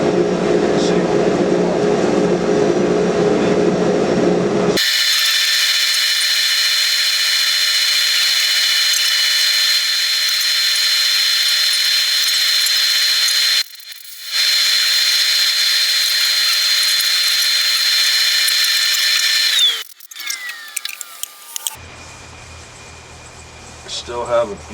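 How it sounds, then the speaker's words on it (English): A power sander running 800 grit over a large live edge cedar slab, a steady high whine with a sustained buzzing drone, briefly cut once and then stopping, with speech before and after. "So let me get this thing sanded. 800 grit this time."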